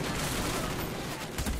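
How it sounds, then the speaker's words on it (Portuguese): Sustained automatic gunfire from a sentry gun in Black Ops, a dense continuous rattle of shots with a brief louder burst near the end, close and loud with no talk. "Minha Sentry tá trabalhando ali"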